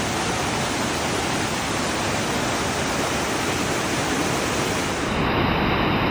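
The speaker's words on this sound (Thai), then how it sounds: "นี่คือ น้ำตกนอตะ ชั้นบนนะคะ" The upper tier of Nauta waterfall, a small stream spilling down through forest in Karen State, gives a loud, constant roar of rushing water that fills the whole stretch without a pause.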